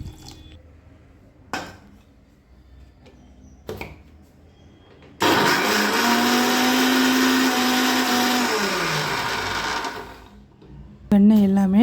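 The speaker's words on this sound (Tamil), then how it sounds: "மறுபடியும் வந்து மிக்ஸியை வந்து ஓட விட்டுக்கிறேன்" A mixer grinder churning butter for homemade ghee whirs loudly for about five seconds, its motor pitch rising then winding down, after a few faint clicks and knocks.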